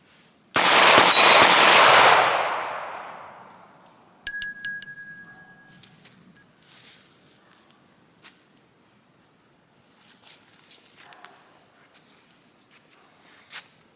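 A Walther PDP pistol fired at 3 yards makes a loud, close blast with a long ringing tail, followed by a sharp crack and a scatter of lighter metallic clinks and clatter.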